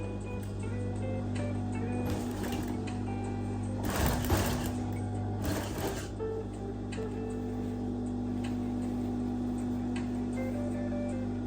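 A sewing machine stitches a tailored trouser back pocket, running in a steady, close mechanical whir with a faint rapid ticking, with a few louder clattering bursts near the middle.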